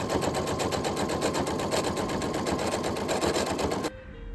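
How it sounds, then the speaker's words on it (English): A sewing machine top stitching down the length of a cosplay belt with bias binding, running as a fast loud steady rattle at close range before stopping abruptly near the end. "just top stitching all of that down along the length of the belt"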